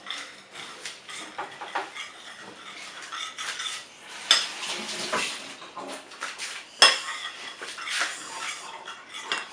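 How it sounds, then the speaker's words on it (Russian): A spoon stirring a lemon juice and red onion mixture for homemade cough drops in a dish: light repeated scraping and clinking against the container, with a few sharper taps, close and moderately quiet. "перемешиваем."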